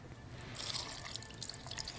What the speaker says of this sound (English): We are gonna go ahead and add 1 ounce of rum to our mixer here and get this kicked off.